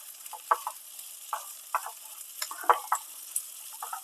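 A spatula stirs prawn ghee roast masala in a pan, giving short scraping strokes and soft clacks in an uneven rhythm over a faint background hiss, close up and without any talk.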